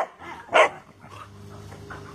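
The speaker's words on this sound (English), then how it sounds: "if boxers bark at you, they don't like you. So if you got a boxer barking at you, that's not good." A boxer dog gives one sharp, loud bark close by, followed by a few softer whimpering and yipping sounds.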